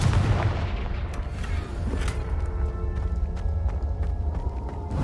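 Confringo fire spell blasts in Hogwarts Legacy at Rookwood Castle: a loud explosive burst followed by crackling impacts and scattered sharp cracks fading over several seconds.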